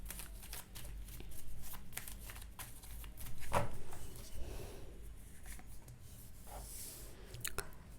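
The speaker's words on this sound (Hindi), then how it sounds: "मैं जब तक कार्ड शफल कर रही हूँ" A deck of tarot cards is shuffled by hand, giving soft riffling and flicking sounds in close, quiet bursts over a low background hum.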